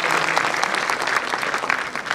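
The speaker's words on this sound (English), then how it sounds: "Give a big round of applause for Shri Gautam Gambhir, sir." An audience at a large public event in India claps loudly, producing dense, sustained applause of many hands with no break and no speech.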